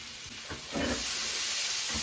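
Onions dropped into about two centilitres of hot oil in a pan, a soft hiss swelling into a steady, close sizzle that holds to the end.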